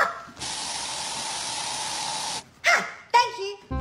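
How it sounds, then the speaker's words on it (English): An aerosol can of bug spray lets out one loud, sustained hiss lasting about two seconds, close by, and then short vocal sounds follow. "That's bug spray."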